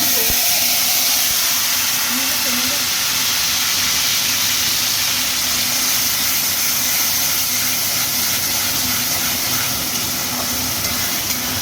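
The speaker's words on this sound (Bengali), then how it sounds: "এদিকে ভাত ফুটছে" Rice boiling in a pot on a home kitchen stove, giving a steady, close, loud hiss of steam and bubbling that runs unbroken throughout, with faint kitchen clatter underneath.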